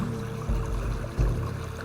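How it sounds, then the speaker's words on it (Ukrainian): A quiet stream runs without pause, its gentle murmur faint and steady with a couple of soft low surges. No voices. "коло вас тече прекрасна вода"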